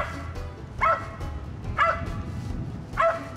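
A hunting dog barks at a squirrel up a tree in the woods, giving three separate sharp barks spaced about a second apart over a low outdoor background.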